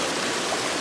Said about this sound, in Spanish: Es muy bajo el caudal del río